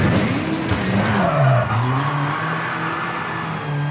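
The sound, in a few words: car brakes locking up, tyres skidding, V-Rally 4 video game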